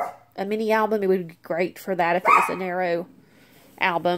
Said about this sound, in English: Excuse my dog, I'm so sorry.